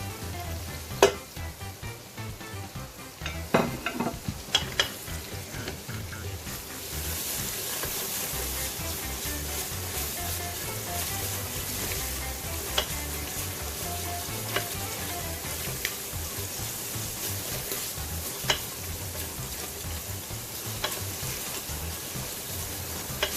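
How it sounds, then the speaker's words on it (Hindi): Whole chillies and tomato paste fry in hot oil for a vegetarian pea biryani, a close, steady sizzle that runs throughout, with a few clinks and stirring sounds near the start. "इसमें मैं साबुत मिर्चें, टोमेटो पेस्ट ऐड करूंगी"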